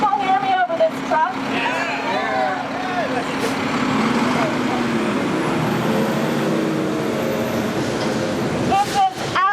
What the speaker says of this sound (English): Can the people hear me over this truck?